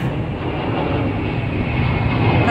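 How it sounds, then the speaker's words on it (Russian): An airplane flies overhead above a countryside garden, a loud steady roar that swells slightly toward the end, with no talk. "Самолет летит. Редко, но летают"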